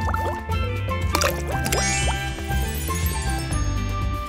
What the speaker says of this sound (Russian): Судя по инструкции, надо положить его в воду.